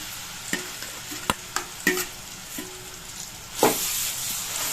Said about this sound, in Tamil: இப்போ இந்த அரைச்ச விழுதத்தை அதில் போட்டுக்கலாம்.